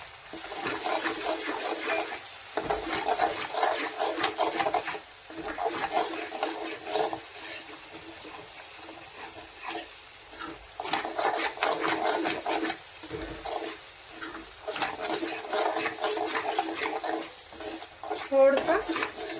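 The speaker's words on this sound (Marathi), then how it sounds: "याच्यात आता मिरची धनिया पावडर हळद हे सर्व याच्यात मिसळून देऊ" Chili powder, coriander powder and turmeric stirred into a soybean badi bhaji masala in a pan, a steady close scraping and rustling with light sizzle and occasional utensil clinks, no talking.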